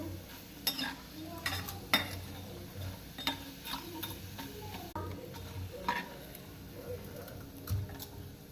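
Fryums deep-fried in a pan of oil, a soft sizzle broken by scattered clinks and scrapes of a ladle against the metal, with faint talk in the background.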